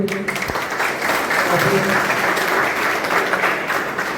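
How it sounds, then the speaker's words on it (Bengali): Loud, sustained applause from an audience fills the room at a pigeon club prize distribution ceremony, steady clapping throughout with no break. "একটু জোরে হাততালি।"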